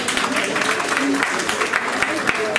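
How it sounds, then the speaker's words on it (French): Audience applause at a live painting event, a dense, steady patter of clapping sustained throughout with a voice speaking over it. "Vous pouvez l'applaudir s'il vous plaît"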